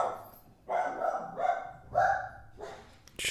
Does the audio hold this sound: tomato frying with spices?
no